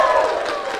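A crowd at a bachelorette show in a banquet and event center in Utica, a short loud burst of cheering and whooping voices, dense and close.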